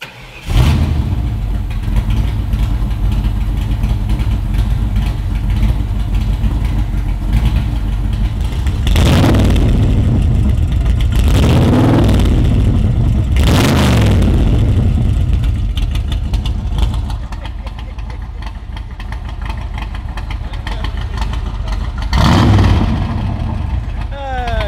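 A collector's sports car engine idles with a steady mid-pitched rumble, then rises in several sharp revs before settling again, loud and close, with someone talking over parts of it.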